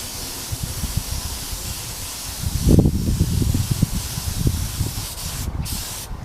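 Spray can applying thin primer coats to motorcycle wheels during a Ninja restoration gives a steady, close airy hiss in continuous bursts, with no talking.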